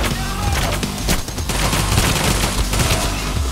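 Pistol fire in the heist shooter Payday The Heist, loud rapid gunshots cracking in quick bursts over a busy mix of game noise, with no talk over them.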